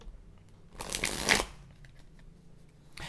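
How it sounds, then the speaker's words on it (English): A deck of tarot cards is shuffled close up in one brisk riffling burst lasting about half a second, followed by quiet room tone and faint handling. "Now, while I shuffle this"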